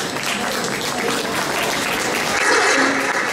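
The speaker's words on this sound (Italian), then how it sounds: "facciamo un applauso a tutte le ragazze" Applause for young women contestants at a Miss Vesuvio beauty pageant semifinal in a Naples shopping centre, a steady wash of crowd clapping that stays even and fairly close for the whole stretch.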